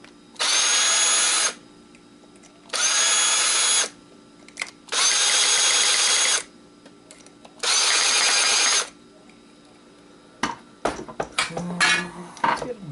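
A power drill whirs in four loud, even bursts of about a second each while boring into an Xbox 360 power supply, then metal parts clatter and rattle close by.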